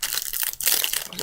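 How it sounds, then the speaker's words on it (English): Plastic packaging around a small bag of tissues from a Hello Kitty Barbie outfit set crinkles and rustles steadily as it is handled, close and fairly loud with no talking. "sorry you only hear rustling, hang on, I'll take it out and then I'll talk."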